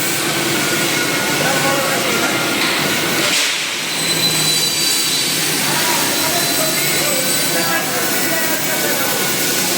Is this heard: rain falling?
no